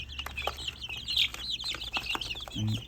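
Chickens cluck and chirp softly in a busy coop, with small bird calls scattered throughout and a low hum in the background.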